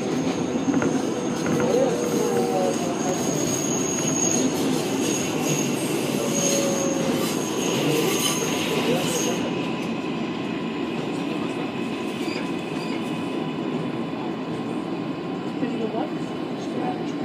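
A New York City subway R188 train on the 7 line runs along elevated track between 42nd Street–Bryant Park and Queensboro Plaza, a steady rolling rumble with high, sustained wheel squeal over the rails that eases off partway through.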